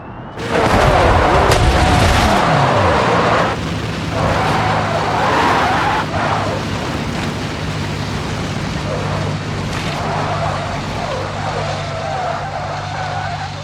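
A McLaren Senna in the BeamNG Drive video game accelerates hard, with a loud, close engine roar and booming crashes at the start, settling into a steady droning hum, with some speech mixed in.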